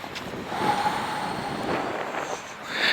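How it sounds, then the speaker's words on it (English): Cold outdoor wind at about 4 degrees rushes steadily across the microphone, a loud broad buffeting roar with no voices. "the wind's not that bad, it's currently 4 degrees out."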